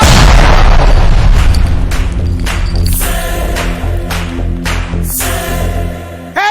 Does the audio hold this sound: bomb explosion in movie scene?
yes